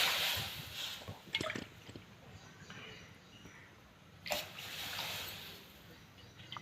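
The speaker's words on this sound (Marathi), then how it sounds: "त्या कढईत चार वाटी पाणी घ्यायचा" Water pours and splashes into a kadhai in uneven bursts, with a stronger gush midway, close by and fairly quiet.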